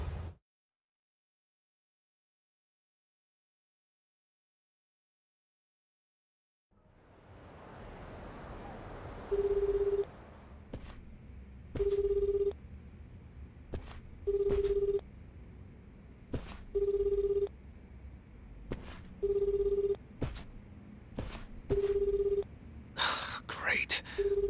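In the Yakuza: Infinite Wealth video game, a phone call to a switched-off phone opens with silence and a hiss, then a call tone sounds in seven evenly spaced beeps, each answered by a sharp click, with faint talk underneath.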